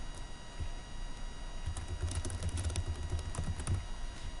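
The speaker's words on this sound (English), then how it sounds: "I can type in a chat session on the right-hand side." A chat message is typed on a computer keyboard: quiet, rapid key clicks in an uneven rhythm, close by and alone, thickening into a denser burst of keystrokes partway through.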